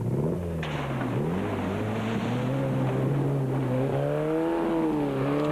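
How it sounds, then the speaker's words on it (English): A Class C budget off-road race car at the 1998 Tarkastad 400 drives past, its engine droning steadily with a rising and falling pitch, loud and close against wind noise throughout. "That's a Class C car, which is more of a budget vehicle"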